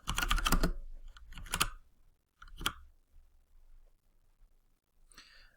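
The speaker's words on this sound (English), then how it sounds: "just type in Custom CSS" Bursts of quick clattering keystrokes on a computer keyboard come in three short runs, then a pause with faint clicks and a final brief flurry, close and fairly quiet.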